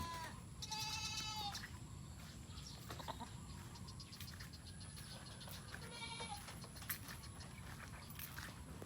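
A sheep on a farm bleats in two distinct calls, one early and one later, over steady background noise and other livestock sounds.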